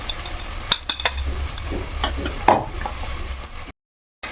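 Mustard seeds and fenugreek powder tipped into hot oil on a stove give a steady sizzle and crackle, with a few sharp spoon-against-pan clinks and a brief stirring scrape, ending in a short dropout.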